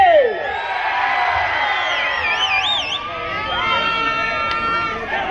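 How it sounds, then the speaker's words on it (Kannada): A crowd at a village kabaddi match cheers and whoops loudly and continuously, with shouts rising over the steady roar of the spectators. "ಚಪ್ಪಾಳೆ ಕೂಗ್ಲಿ ಒಂದ್ಸಾರಿ"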